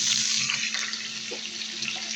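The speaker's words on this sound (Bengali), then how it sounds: "এখন আমি এটার মধ্যে অল্প একটু পানি দিয়ে দিব।" A little water poured into onions frying in oil makes a steady, close rushing hiss that lasts the whole moment, with no one talking.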